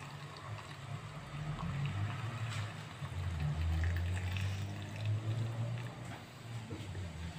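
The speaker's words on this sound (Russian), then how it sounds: "Теперь банку нашу заливаем крутым кипятком." Boiling water is poured into a jar packed with grapes, making a continuous, gurgling splash of filling liquid that swells and eases over several seconds, with no talking.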